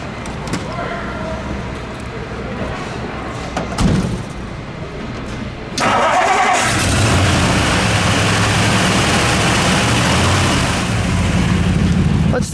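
A 1956 Ford Fairlane with a 312 Y-block V8 catches after a quieter stretch with a thump. It then runs loud and steady with a deep, constant rumble, and people talk nearby.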